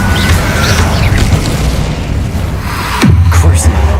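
A fiery blast from the Incendio spell in Hogwarts Legacy, a loud booming burst with a falling whoosh, playing over a steady game backdrop.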